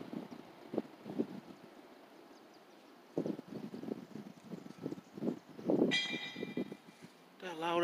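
SEPTA Newark Line train wheels rolling over the track, a loud repeating clatter of wheel thumps around a curve, with a brief high squeal near the end.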